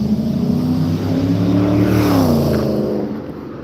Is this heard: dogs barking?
no